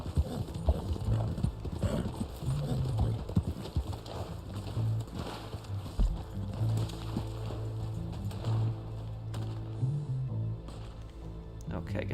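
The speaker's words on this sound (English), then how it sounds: "This is the Black Arabian horse." Hooves of a Black Arabian horse clip-clopping in the Red Dead Online video game, a steady trotting rhythm mixed with game sounds and music while voices talk over it.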